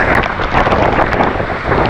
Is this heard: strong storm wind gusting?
yes